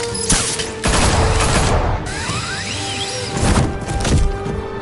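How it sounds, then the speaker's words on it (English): Gunfire in a Batman video game, a loud close fusillade of sharp shots with crashing impacts, then a quieter stretch before more bursts. "Shoot him!"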